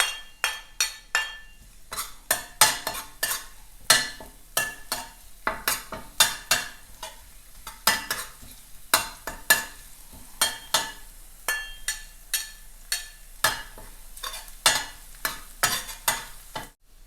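Minced garlic frying in a pan, stirred with a utensil that scrapes and clinks in quick repeated strokes over a soft sizzle, near and steady for the whole stretch.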